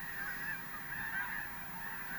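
A large flock of snow geese honks continuously over a field, many overlapping nasal calls blending into a steady moderately loud chorus with no talk.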